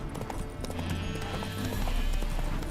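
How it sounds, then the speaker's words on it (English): Horse hooves clip-clop steadily in Witcher 3: Wild Hunt, a continuous trotting rhythm with a whinny-like snort, loud and close over game ambience. "Spooking my horse."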